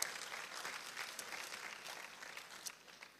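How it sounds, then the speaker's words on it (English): Faint, distant applause from an audience at a deep learning conference, a soft, even patter of many hands continuing throughout. "a warm applause for Lesego"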